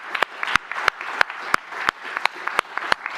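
Scattered clapping from an audience for conference panelists: a sparse crowd with sharp, distinct claps in an uneven rhythm, fairly close, with no voices over it.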